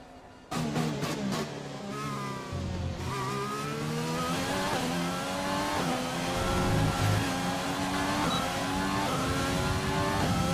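A Formula 1 car engine in the game F1 2020 screams through a qualifying lap in Australia, loud and close, climbing through the gears with rapid upshifts and brief downshift dips, with no talk over it.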